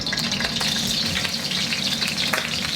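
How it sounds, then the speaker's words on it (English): Onions and mushrooms sauté in a hot wok with neutral oil for oyster mushroom pancit, a loud, steady sizzle with crackles and stirring scrapes throughout, close and without talk. "We are gonna start doing our saute, and that's gonna go really fucking quick"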